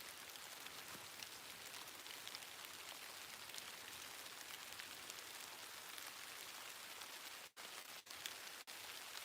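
Steady rain falls outdoors in a dense, even hiss of drops on surfaces, faint and continuous with a few short dropouts near the end, and no talking.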